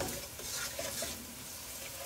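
Masala spices stirred and frying in a pan for black-eyed pea curry, a quiet sizzle with soft scraping strokes of the spoon, close and alone, with no talking.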